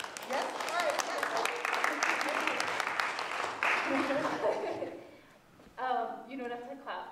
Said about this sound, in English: you don't have to clap for me in the interest of time